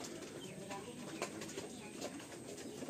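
A pair of pigeons coos softly in a loft, with faint, low, murmuring coos under a hazy background and a few light incidental sounds.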